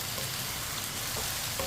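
Ridge gourd fries in a pan while a spoon stirs it, producing a steady, faint, hissing sizzle with soft scraping stirs and no voices.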